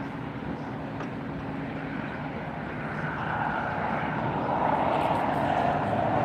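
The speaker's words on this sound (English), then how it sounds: "here's our Lufthansa taxiing up. Beautiful A380 aircraft." A Lufthansa Airbus A380 jet taxis at LAX airport, its engines giving a steady, broad roar that swells slightly toward the end, heard alone without talk.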